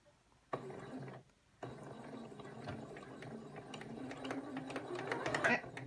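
A sewing machine begins stitching after being started with its hand crank, its steady whir running continuously with a brief pause near the start and building slightly louder toward the end, with no talking.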